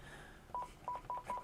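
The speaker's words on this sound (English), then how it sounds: "I'm dialing a phone number here" A Panasonic KX-TG175C DECT cordless phone handset sounds four short, clean dialing tones in an uneven sequence, quiet and close over faint room noise.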